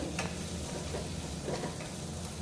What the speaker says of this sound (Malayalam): ഇതുപോലെ കട്ട് ചെയ്ത ശേഷം ആഡ് ചെയ്ത് കൊടുക്കുകയാണ്.